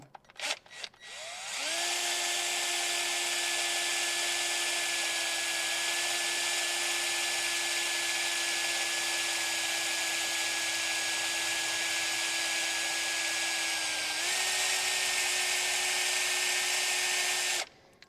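A power drill whines at a steady high pitch for a long continuous run, boring pilot holes into a car intake on a 1960 Chevy Brookwood wagon, close and loud with a brief start and a small pitch shift near the end.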